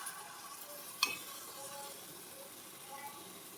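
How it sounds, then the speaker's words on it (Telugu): Masala sizzles steadily in oil in a pan for a village-style fish curry (chepala pulusu): a faint, even frying hiss with one brief utensil clink early on. "ఆయిల్ మొత్తం సపరేట్ అయిపోయింది, మసాలా అనేది బాగా వేగిపోయిందండి"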